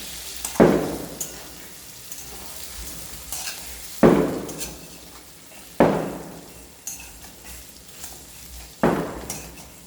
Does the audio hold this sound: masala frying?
yes